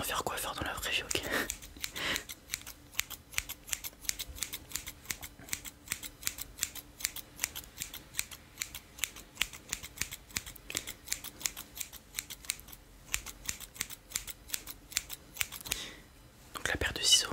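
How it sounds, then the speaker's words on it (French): Scissors snipping close up in a French hairdresser roleplay, a fast steady run of crisp metallic clicks lasting throughout, with whispered talk at the start and end. "Donc la paire de ciseaux"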